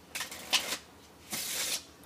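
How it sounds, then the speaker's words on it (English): A pinochle card deck is riffle shuffled nearby, two bursts of rapid flicking cards, the second a longer even cascade, with no talk. "The riffle shuffle, right?"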